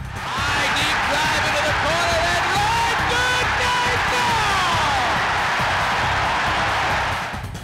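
A large baseball crowd at Miller Park cheers wildly after a Brewers home run, a loud roaring swell of yells and whoops that holds for several seconds before easing off.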